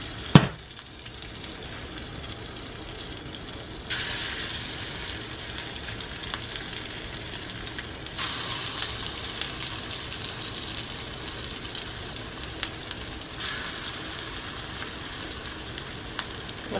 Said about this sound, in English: I'm just gonna heat up some oil in here. And then we'll start doing just small batches of these little meatballs.